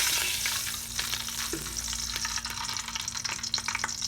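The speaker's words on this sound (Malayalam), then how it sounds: "പാത്രം ചൂടായിട്ടുണ്ട്. അപ്പോൾ നമുക്ക് ഈ ഡാൽഡ ഇട്ട് കൊടുക്കാം." Dalda vegetable ghee sizzles in a hot pan while kabsa rice is prepared: a close, crackling fry hiss with scattered sharp pops and a few stirring clicks.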